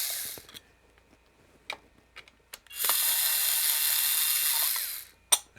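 A power screwdriver whirs steadily for a couple of seconds while removing screws from a guitar overdrive pedal, amid scattered clicks and a couple of shorter tool bursts, close and alone.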